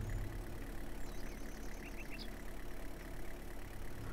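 A pickup truck engine drives steadily in the farming game Farmer's Dynasty, a quiet, low, continuous rumble with faint bird chirps above it and no talking.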